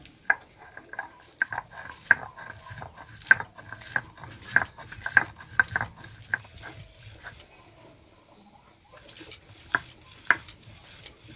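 Star fruit ground by hand with mustard and tamarind, without water: repeated rhythmic grinding strokes with sharp knocks and scrapes, close and moderately loud. A brief lull falls near the end before the strokes resume.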